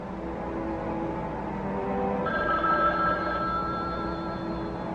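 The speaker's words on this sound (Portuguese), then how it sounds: "Olha o telefone." A telephone rings in a dubbed suspense-horror film scene, its steady ringing tone beginning partway through and continuing over a low, busy background without speech.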